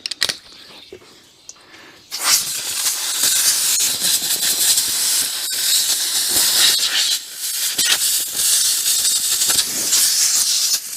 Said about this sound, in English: I'll get my air compressor, blow it all out.